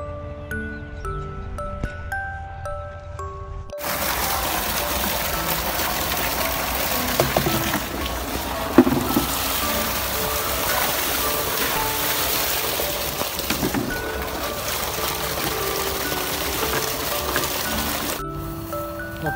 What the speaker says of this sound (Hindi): अपनी ट्यूबवेल जो लास्ट टाइम आपने देखी थी चलते हुए जबरदस्त।